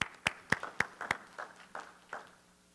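A small church congregation gives a brief round of applause, a handful of sharp, distinct claps that thin out into scattered, fading pats.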